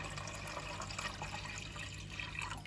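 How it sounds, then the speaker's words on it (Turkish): Tap water runs steadily into a container being filled in a home kitchen, a soft continuous hiss and splash throughout with no voices. "ilk önce su doldurayım"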